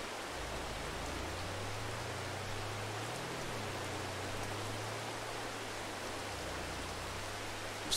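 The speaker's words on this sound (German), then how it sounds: "Es regnet sowieso." Steady rain falls in the farming video game Farming Simulator 22, a constant even hiss with a low engine-like hum running beneath it throughout, unbroken and fairly quiet.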